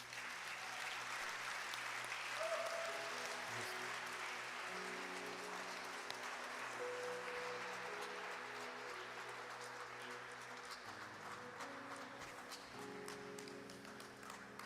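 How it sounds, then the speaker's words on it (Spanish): A church congregation claps together in sustained applause, dense and even throughout, with a soft musical tone lingering underneath. "Dale una ofrenda de palmas a Jesús."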